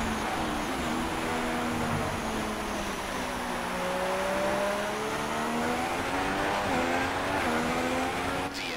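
An F1 car in F1 2016 runs through the Monaco tunnel, its high-pitched engine note climbing and falling in smooth sweeps over a dense, steady roar, loud and close, with no talking.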